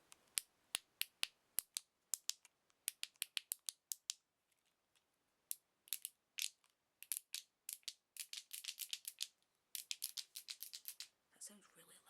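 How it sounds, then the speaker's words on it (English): A Poundland mystery fidget cube gets clicked repeatedly up close, crisp sharp clicks in uneven bursts and rapid runs, quiet between, ending with a faint soft rustle. "This is one of my favourite ones because it's so clicky."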